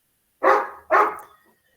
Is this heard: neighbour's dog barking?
yes